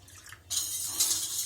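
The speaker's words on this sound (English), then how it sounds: "Now, all you need to do is add water." Water pours into curd in a bowl to make buttermilk, giving a sudden, steady close-up splashing stream that starts after a quiet moment.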